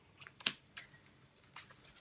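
A deck of Yu-Gi-Oh cards is shuffled by hand, producing a few quiet, crisp riffling snaps and flicks spaced irregularly across two seconds.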